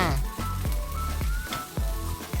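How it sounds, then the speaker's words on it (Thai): A big batch of fried rice with egg and vegetables sizzles and crackles in a pan, with stirring strokes landing every half second or so, close up and loud, with no one talking. "ผัดต่อจนผักนิ่มแล้วก็เข้ากันดี"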